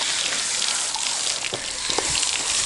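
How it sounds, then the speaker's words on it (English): Water rinsing flies out of a horse's eyes, heard as a steady close splashing gush with a few drips, no voices. "The key to it is to rinse, rinse, and rinse."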